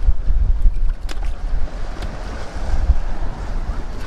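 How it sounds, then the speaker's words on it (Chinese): Big sea waves break and wash against a rocky shore, a loud, continuous rushing surge with wind buffeting the microphone, swelling and easing over a few seconds. "这个大浪太大了"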